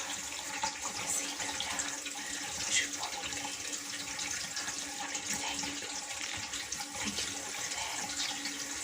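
Water runs from a tap into a sink in a continuous close, hissing splash that holds steady throughout, with no voices over it.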